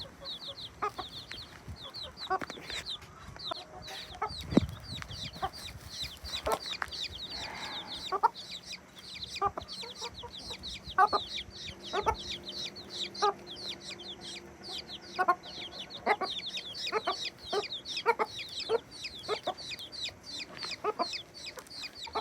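A mother hen clucks softly and repeatedly while her chicks cheep in rapid high peeps throughout, with occasional scratching and rustling close by as she takes a dust bath.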